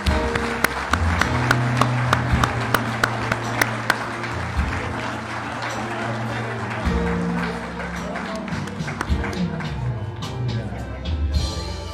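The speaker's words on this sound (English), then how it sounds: "Let's give our new lieutenants and captains a round of applause." A crowd applauds new lieutenants and captains at a Chesapeake Fire Department promotion and badge pinning ceremony, with sharp individual claps standing out early before the clapping thins and trails off.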